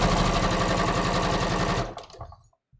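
A sewing machine stitches underwear fabric in a steady, fast mechanical chatter, loud and close. It runs for almost two seconds, then stops abruptly and leaves a few soft clicks and handling sounds.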